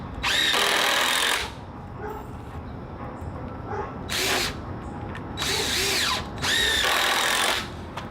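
A power drill drives fasteners to secure a rim joist to framing during a bungalow restoration, firing in several loud whirring bursts of a second or two each, separated by short pauses with faint background noise.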